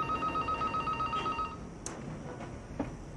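A telephone rings with a steady electronic tone in a domestic scene, followed by quieter room sounds and faint clicks after it stops.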